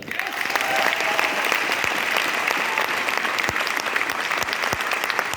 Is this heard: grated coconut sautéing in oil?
no